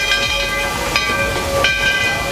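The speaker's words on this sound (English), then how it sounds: "Riding the Walt Disney World Railroad to get over here was definitely a fun way to go." Steady rumble and hiss from the Walt Disney World Railroad train during a ride, with sustained tonal hum lines running throughout at an even, fairly loud level and no talking.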